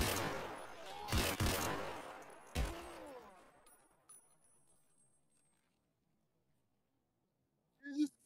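A few sharp gunshots in Escape From Tarkov, close and loud, with two bursts early on and a single crack just after, then fading tail and near silence before a brief voice at the end.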